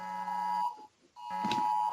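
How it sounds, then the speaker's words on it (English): A phone emergency alert tone blares in North Carolina, a loud steady two-tone buzzing beep that cuts out briefly and then resumes, with no talking over it. "I guess everybody's phone's going off in North Carolina, some kind of alert."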